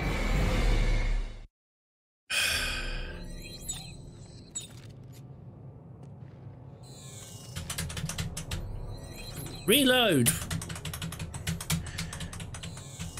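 Rapid clicking and clacking of computer keyboard keys during a Dead Space 3 play session, in irregular bursts mixed with mechanical game sounds and a rising whine, after a brief silence; a voice speaks once near the end.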